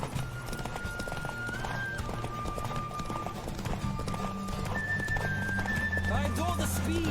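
Hooves of a horse racing in The Witcher 3 clatter steadily throughout, with occasional whinnies and a voice speaking over the rhythmic pounding.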